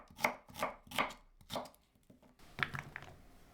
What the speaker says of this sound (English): Chop 3 garlic cloves. And cut 1 small onion into chunks.